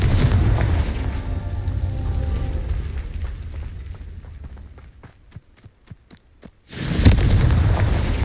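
Confringo fire-spell explosions in Hogwarts Legacy roar as deep, rumbling booms. They fade into a few faint, spaced thuds before a loud blast returns and carries on to the end.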